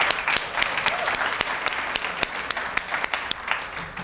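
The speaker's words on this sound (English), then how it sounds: "We should give you guys a big round of applause for that" Audience applause at a school awards celebration, a steady wash of many hands clapping with sharp individual claps standing out, sustained at moderate level throughout.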